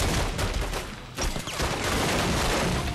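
Shotgun fire in The Godfather II video game: dense, loud bursts of gunfire crowd the whole stretch, with a brief lull near the middle before the shooting resumes.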